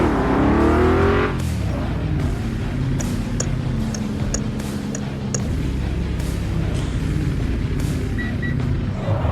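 Game car engine in RealCar Parking 2 revving up with a rising whine at first, then holding a steady loud drone with faint clicks over it, continuous and close.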